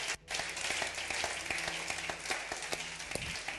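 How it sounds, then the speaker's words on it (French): Church congregation applauding and cheering after a call to acclaim Jesus, loud dense clapping with a brief dip at the start, then steady claps and crowd noise throughout. "Acclame avec moi le Seigneur Jésus-Christ."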